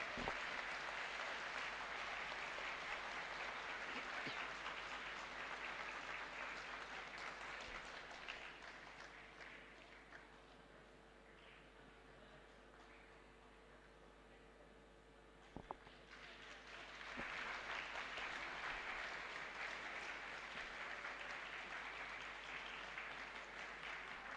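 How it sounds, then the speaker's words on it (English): A hall audience at the IIT Delhi Open House 2024 applauds during a felicitation of guests of honor. Sustained, full applause from many people dips briefly in the middle, then swells back to full strength. "Please join me with a big round of applause."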